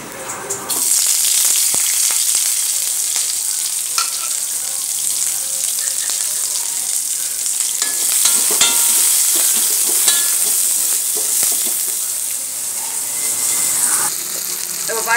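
Onions and curry leaves fry in a pan, a steady loud sizzle with occasional stirring scrapes running throughout.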